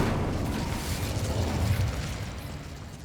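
Incendio fire spell cast in Hogwarts Legacy, a loud, sustained fiery whoosh and roar with rumbling low end that swells and then slowly tapers off.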